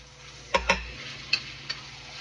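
Carrots and caramelized onion sauté in hot oil for igado, a soft steady sizzle underneath with a few sharp utensil clinks and stirring knocks, close by and without talk.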